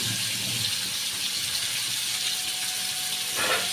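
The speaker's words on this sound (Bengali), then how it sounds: "কড়াই আমি জল দিয়ে দিলাম, এঁচোড় আর আলুগুলো সেদ্ধ করে নেবো।" Water gushes steadily into a wok to boil jackfruit and potatoes, a close, fairly loud continuous pour with a brief splashing surge near the end and no voices.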